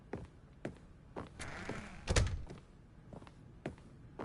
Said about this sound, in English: I don't like him closing doors behind me.